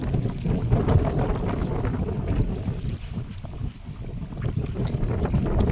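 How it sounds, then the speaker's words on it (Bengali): Strong, steady wind roars across a small river during a Kalbaisakhi storm, a dense, continuous gusting rush with slight swells and dips in loudness, heard alone without any talking. "আজ কিন্তু নদীতে খুব হাওয়া খুব তুফান হচ্ছে"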